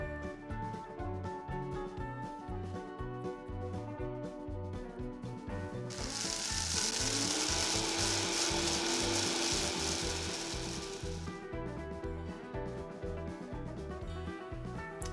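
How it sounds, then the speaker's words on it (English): Electric blender grinding dried celery pieces into celery salt, a loud continuous whir lasting several seconds and rising over steady background music, then stopping. "we're gonna toss these into the blender, blend them for about 15 or 20 seconds"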